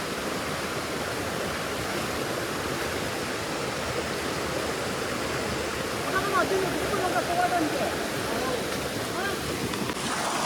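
A waterfall in the hills of East Karbi Anglong roars as a steady, dense wash of falling water, close and constant, with faint voices briefly rising over it partway through.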